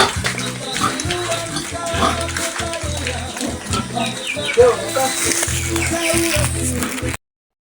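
Pigs grunt and oink in a rhythmic series at feeding time on a Philippine farm, with a person talking over the grunts and some background clatter.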